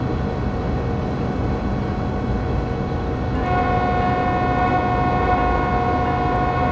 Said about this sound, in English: Why does it sound like the horn is coming back?